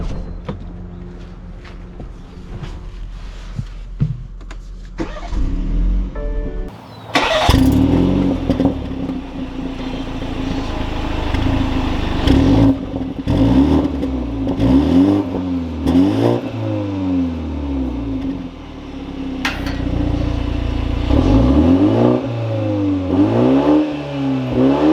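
A 2021 BMW 430i Convertible engine starts up and revs, then the car pulls away with rising, shifting engine tones, fairly close and steady over the road noise.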